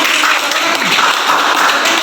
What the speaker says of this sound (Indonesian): tepuk tangan untuk kiri